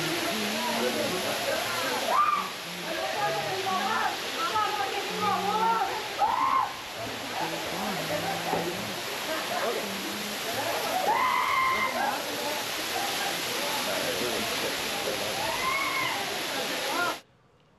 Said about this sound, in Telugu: చూడండి వాటర్ ఫాల్ ఎంత పెద్దగా ఉందో.